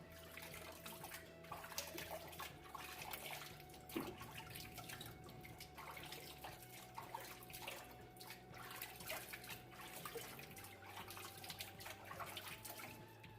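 Water running and dripping at a bathroom sink while a face is rinsed after a wet shave, a faint continuous trickle with small splashes and one sharp knock.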